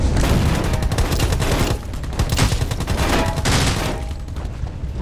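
Dense, continuous gunfire from the mobile battle royale game Rules of Survival, with overlapping bursts and rapid volleys rolling loudly through the whole stretch, no talk over it.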